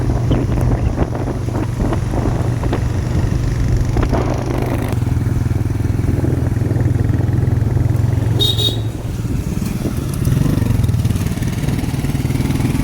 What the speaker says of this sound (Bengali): আমরা বাইকে যাচ্ছি।